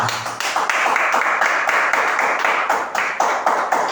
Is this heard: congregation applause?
yes